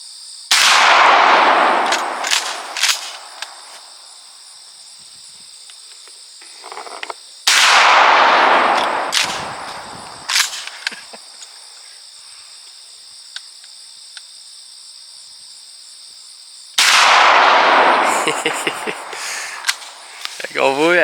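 A shotgun fires Winchester Super X slugs at a 25-metre target outdoors: three loud, sharp blasts spaced several seconds apart, each with a booming decay and quieter background between shots.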